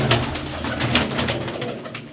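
Rampuri pigeons coo softly and continuously, close by, with low throaty murmurs overlapping against a faint background hum.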